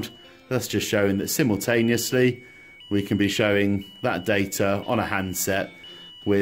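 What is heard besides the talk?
load cell overload alarm beeping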